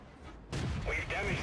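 Tank cannon fire striking enemy armor in a World War II tank game with a Cromwell tank: a sudden heavy boom and impact rumble. Radio-style crew chatter runs over it.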